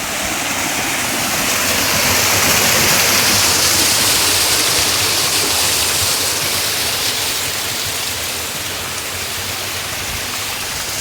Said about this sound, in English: That is water.